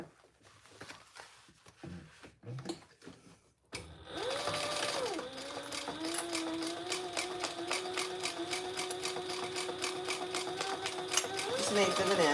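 A sewing machine runs steadily, basting fabric layers for a triple sling with a continuous rapid stitching whir that rises in pitch and holds, following a few seconds of quiet handling and speech at the start.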